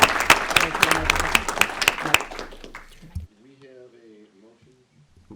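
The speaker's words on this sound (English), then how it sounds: "Let's give them one more round of applause." A round of applause at a public school board of education meeting, dense and loud with crowd noise for about three seconds before cutting off abruptly, followed by someone speaking.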